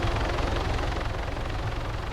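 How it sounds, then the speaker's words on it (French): Helicopter in a video game, a steady low rotor and engine drone that stays loud and even throughout with no talk. "Attends, j'abat l'hélicoptère."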